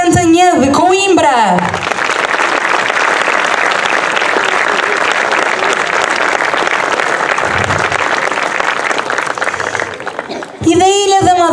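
Sustained applause from the audience at a folk festival gala in Santa Cruz, greeting the Cancioneiro de Cantanhede folk group from Coimbra. Dense, even clapping lasts about nine seconds between brief stretches of someone speaking over a PA at the start and end.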